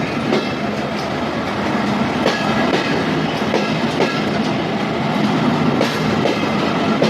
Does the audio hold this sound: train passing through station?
yes